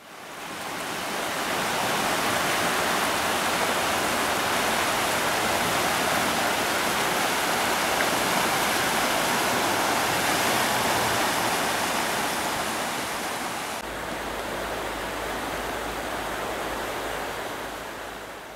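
The Murta, a mountain stream prone to snowmelt floods, rushes in a loud, continuous broadband roar close by, steady for the whole stretch with a slight shift near the end.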